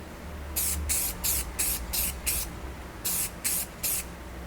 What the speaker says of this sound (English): that is a pretty good rattle can job